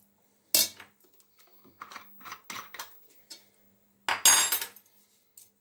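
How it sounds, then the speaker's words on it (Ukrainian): A spoon clinks and scrapes against a bowl while Korean-style carrot salad with vinegar is stirred, in a few irregular bursts with a louder scraping pass near the end. "І теж гарненько розмішую."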